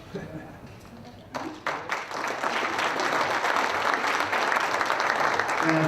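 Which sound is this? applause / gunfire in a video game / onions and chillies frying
applause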